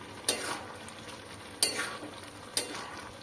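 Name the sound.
pea shoot greens frying in oil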